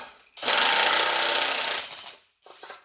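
Oil pan bolts are cracked loose on a Camaro engine in a garage, starting at the corners, with a close, loud mechanical whirring burst lasting about a second and a half, then a shorter, fainter burst.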